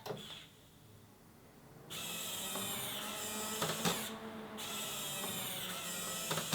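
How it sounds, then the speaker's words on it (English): Motorised panels of a DeepCool Quadstellar PC case opening and closing at boot, producing a whirring motor drone that starts and stops in sections, with small clicks at the transitions. "It really is cool to see all these 4 panels open and close twice upon boot."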